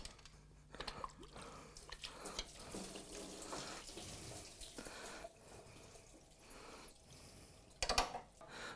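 Water trickles and splashes quietly while a car engine's water pump seal is wetted during a repair, with soft dripping, wet squishing and a brief louder splash near the end.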